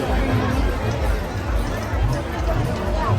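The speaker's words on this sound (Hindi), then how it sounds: "ये देखो संगवारी हो भीड़, इतना ज़्यादा भीड़ है" A packed crowd of pilgrims at Bhoramdev temple fills the air with dense, overlapping chatter and shuffling, a constant close hubbub of many voices.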